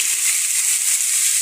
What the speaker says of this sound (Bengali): এটা আমি এখন দিয়ে দিব, কারণ চুলার তেলটা গরম হয়ে গেছে